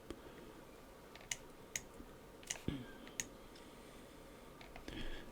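A computer mouse clicks during video editing in Premiere Pro, with several sharp, sparse clicks spaced irregularly over a soft room hiss, quiet and close.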